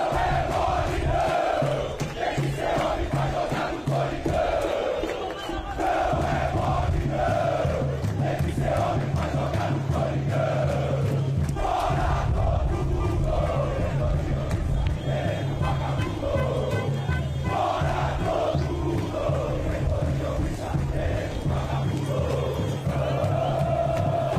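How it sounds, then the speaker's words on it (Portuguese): Corinthians supporters protesting outside Parque São Jorge chant loudly and rhythmically as a massed crowd, a sustained roar of voices with repeating cadences that keeps going throughout. "Ó, tá aí a torcida pressionando, a diretoria, são jogadores."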